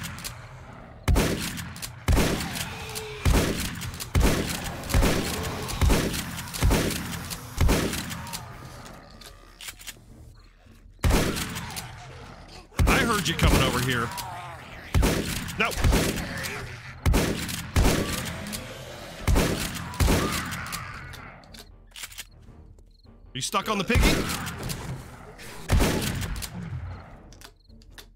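Repeated bursts of gunfire from a gun in the video game 7 Days to Die ring out loudly in quick volleys across the whole stretch, with someone talking over them now and then.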